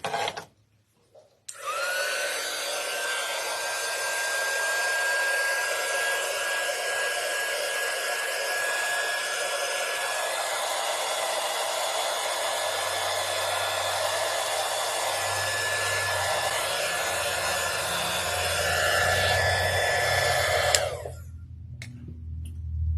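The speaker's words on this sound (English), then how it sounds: "She got her little pink heat gun for Christmas." A small pink heat gun blows steadily on black paint drying on a little stacked wooden barn, a loud continuous whirring hiss close by that runs for about twenty seconds before cutting off.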